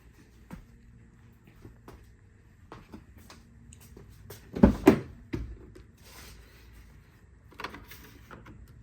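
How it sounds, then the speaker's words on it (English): A power sunshade moves in a door panel of a 2008 BMW E90 335i: a quiet, faint mechanical run with a brief louder clunk midway, alone in a hushed car interior. "Sunshade is working just fine on the right as well."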